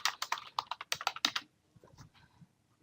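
Quick, crisp keystrokes clatter on a computer keyboard in a fast burst of about a dozen taps, followed by a few fainter taps and clicks as the typing stops.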